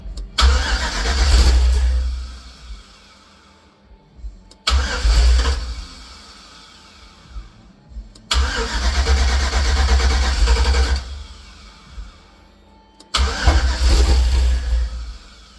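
An LS V8 engine cranks in repeated bursts on its first start after a VATS anti-theft delete, loud starter churning with brief attempts to fire, four cranking spells separated by short pauses.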